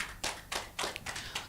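Hand claps from a church congregation at a Sunday worship service arrive in five or six spaced bursts, faint and a little uneven, with no talk over them.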